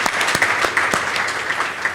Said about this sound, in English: give yourselves a round of applause for doing this